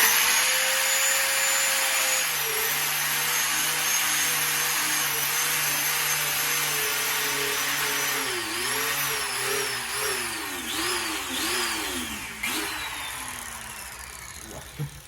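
A small power tool roughs up a tractor tire inner tube before patching, giving a close, steady motor whine whose pitch repeatedly sags and recovers as it bears into the rubber, then stops.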